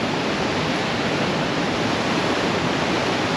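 Roaring, steady wash of falling water from the American Falls at Niagara at night, a dense continuous rush heard up close with no other sounds over it.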